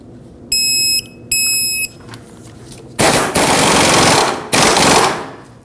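An impact tool tightens a bolt on a 2009-2015 Honda Pilot during a rear CV axle job, with two short high-pitched whines from the tool followed by two loud, harsh rattling bursts, each fading out, close by and without talk.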